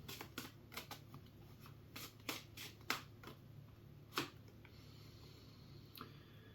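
Tarot cards are shuffled close by in a quiet room, a series of short, crisp riffles and flicks coming in irregular bursts before trailing off.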